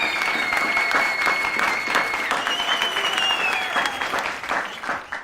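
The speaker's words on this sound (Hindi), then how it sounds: "अपनी जोरदार तालियों के बीच स्वागत कीजिए bank balance killer, gold digger jenny का" Dense, sustained applause from a studio audience welcoming a guest on a Hindi talk show, a continuous wash of clapping with a bright sliding tone running through it.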